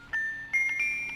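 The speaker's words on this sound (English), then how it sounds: "this is not just a music box, but it's one that's slightly skipping." Thin, bell-like tones from a slightly skipping broken music box in the video game Five Nights at Freddy's 3 ring out in a few sustained notes, uneven and halting, with a faint electronic hum underneath.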